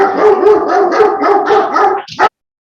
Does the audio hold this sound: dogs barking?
yes